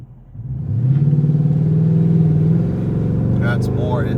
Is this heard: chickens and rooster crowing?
no